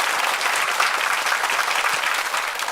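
A stage-show audience breaks into sustained applause, a thick, even roar of clapping hands that stays loud throughout without any voices on top.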